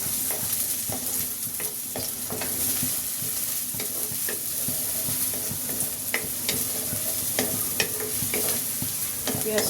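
Onions sizzling in hot oil in a pan alongside sliced eggplant, with repeated scraping and tapping of a spatula as they are stirred, close up and steady throughout.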